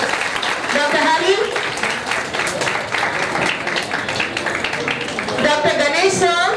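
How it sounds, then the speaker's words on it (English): Applause from an audience runs under a speaking voice, a steady patter of clapping throughout. "Dr. Hari sir, Dr. Hari, big round of applause to all of you."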